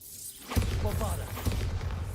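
A Bombarda spell blast in Hogwarts Legacy smashes junk: a sudden thudding impact followed by rumbling debris and shattering clatter, loud and close, with a voice speaking over it.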